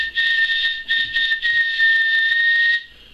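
A voice imitates the whistle of a train caboose with a bright, piercing whistled tone, close and loud, sounding in several short pulses and then one long held blast before it cuts off.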